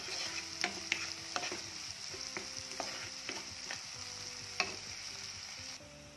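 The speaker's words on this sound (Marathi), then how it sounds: "कांदा लवकर भाजला पाहिजे, मग त्यामध्ये थोडंसं मीठ टाका।" Onions fry in a pan with salt for a spicy potato bhaji, giving a soft steady sizzle broken by repeated scraping, clinking stirs, close and fairly quiet, with no voices.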